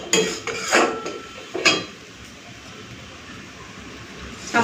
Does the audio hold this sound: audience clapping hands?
no